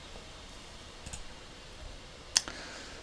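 A computer mouse clicks a few times during CAD/CAM software work, brief sharp isolated clicks, one louder than the rest, over a quiet room hiss.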